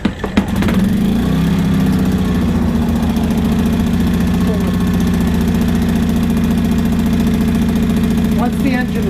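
A WEN 56200i portable inverter generator runs at a steady idle, its engine drone loud and continuous with an even mid-low hum after a brief start-up burst.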